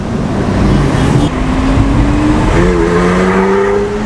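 An Audi supercar in sport mode revs hard and loud, its engine note holding a steady roar and then climbing in pitch as it accelerates, close and continuous throughout.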